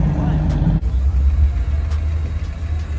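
A Porsche 997 drives past at a Cars and Coffee meet, a loud low engine rumble that briefly flares and then settles into a steady drone, with background voices.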